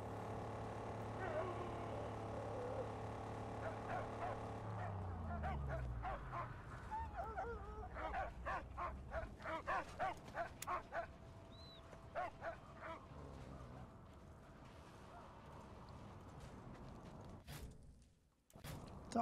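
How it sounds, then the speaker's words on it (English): A dog in the video game Mad Max barks in a run of repeated sharp yaps mixed with whimpering, close and fairly loud, over mechanical creaks and game noise, with voices talking now and then. "Dog is freaking out."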